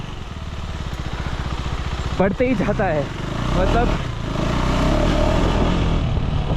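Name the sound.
KTM 390 Enduro R motorcycle being ridden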